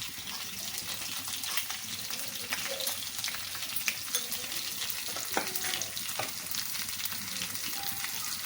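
Ajwain, about twenty small garlic cloves and two dried red chillies frying in oil for a tempering, giving a steady close sizzle with scattered crackles and pops throughout, no talking.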